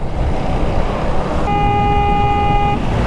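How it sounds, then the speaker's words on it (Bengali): A motorbike horn blares in one steady tone for about a second over loud road and engine rumble while riding behind a bus on the highway near Godagari between Rajshahi and Chapai Nawabganj. "আমি এখানে হর্ন দিয়ে পাগল বানায় ফেলাম"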